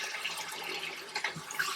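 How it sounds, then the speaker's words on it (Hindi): Half a cup of water poured into tomato masala in a hot pan for aloo methi palak, a steady close splashing pour with a brief gurgle partway through, no talking. "तो इसमें जो है थोड़ा सा पानी डालते हैं।"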